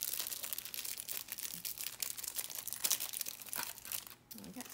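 Someone opens a plastic wrapper on a piece of Turkish taffy candy, producing continuous close crinkling and crackling that comes in small bursts, quiet overall and without talking.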